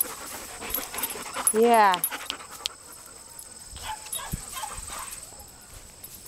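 Airedale terrier dogs panting and whimpering close by, with a brief rising whine near the middle, as people talk over them outdoors.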